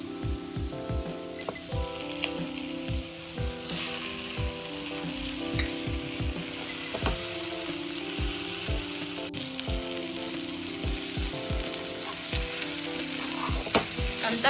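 Chicken leg pieces frying with masala, coriander and mint in a pan, a steady loud sizzle with repeated stirring scrapes and clatters running throughout.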